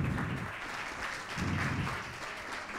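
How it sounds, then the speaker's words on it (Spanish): Audience applause at a 2023 conference event, a steady crowd clapping at moderate distance, alone without talk. "Que se sienta fuerte ese aplauso de agradecimiento"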